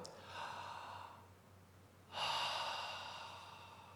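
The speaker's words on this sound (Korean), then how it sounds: "다 함께 숨을 한번 크게 쉬어 볼까요?" A church congregation at a Wednesday prayer meeting draws a deep breath together. Two soft, airy swells of many people breathing in at once, heard together as one sound, rise and fall with a short pause between them.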